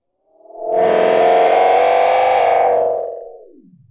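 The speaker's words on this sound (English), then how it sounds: "we'll hear that speeding up and slowing down thing exaggerated in the Damaged 1 mode" A Tapex 2 tape delay in Damaged 1 mode warps a sustained distorted guitar-like tone, swelling in, wobbling in pitch as it speeds up and slows down, then dragging downward as it fades out.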